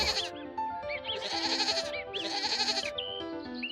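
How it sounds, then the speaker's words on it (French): Goats bleating repeatedly, several wavering cries overlapping, loud and near, over a melodic background. "Heidi profitait de chaque journée en allant au pâturage avec Peter et les chèvres."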